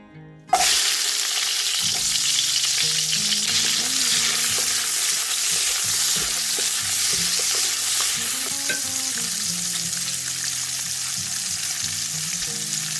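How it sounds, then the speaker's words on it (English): Shrimp hits a hot pan and bursts into a loud, continuous sizzle that holds steady as it is stirred, close and without talk. "Then after that, we are going to cook our shrimp, and then we'll take it out."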